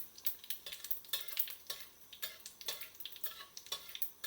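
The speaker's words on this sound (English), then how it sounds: "now you just put the cumin seeds in the oil as soon as the oil gets hot" Cumin seeds frying in hot oil for an Indian vegetarian stuffed tomato dish, with a steady crackling sizzle broken by bursts of popping and stirring scrapes, close and moderately loud, with no talking.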